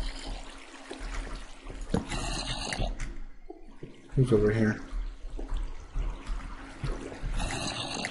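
Flowing water placed from a water source block in Minecraft, a steady trickling wash running under intermittent talk, with a brief louder splash partway through.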